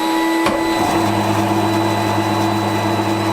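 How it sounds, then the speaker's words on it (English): A workshop dust extractor switched on beside a bandsaw used for cutting G10, giving a loud, steady broadband roar with a constant hum underneath, close and uninterrupted throughout, with no voices. "So turn the extractor on."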